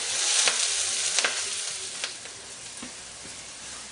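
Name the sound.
siningog cooking in a pan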